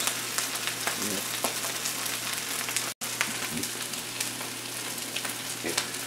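Fresh mushrooms fry and brown in a pan with a steady, close, even sizzle throughout and one brief dropout near the middle. No one speaks.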